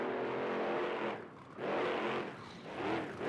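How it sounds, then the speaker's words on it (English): Monster truck engine roaring during a freestyle ramp jump at Raymond James Stadium in Tampa, Florida, loud revving that surges, dips briefly, then surges again, with no talk over it. "Only our fifth truck out as he's going to get some nice air off of the racing ramp."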